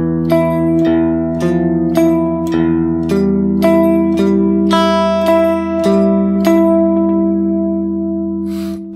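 A guitar plays a steady fingerpicked pattern of clear, ringing single notes over sustained bass tones, moving in an even rhythm.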